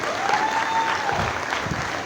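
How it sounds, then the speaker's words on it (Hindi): An audience at an Independence Day celebration at a provincial office in Karachi gives a steady round of applause. Dense, continuous clapping fills the room with a faint tonal hum underneath. "आपकी भरपूर तालियों में स्टेज पे तशरीफ़ लाइए सर"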